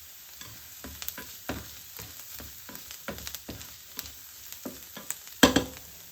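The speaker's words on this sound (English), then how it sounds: "Add the onions to the pan. Fry for 5 minutes on medium-low heat." Onions frying in a pan over medium-low heat give a quiet, low sizzle, broken by a scatter of clicks and scrapes from stirring and one sharper clatter near the end.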